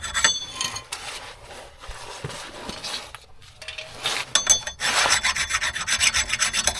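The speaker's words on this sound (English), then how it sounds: "We're just gonna get a file in there and take our time." A hand file scrapes rust from a Hyundai Elantra brake hub, with close rasping strokes that start intermittently and then build into a steady, louder back-and-forth rhythm, with no talk.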